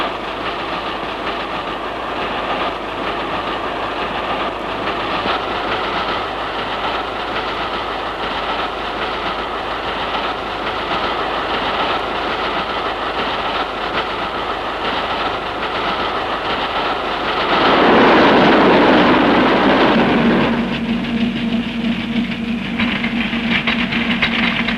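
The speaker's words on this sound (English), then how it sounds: "multiple-unit electric trains are clean, comfortable and speedy" A New Zealand multiple-unit electric train runs on rails with a steady broadband rumble and faint clatter, growing louder and brighter near the end as it passes close by.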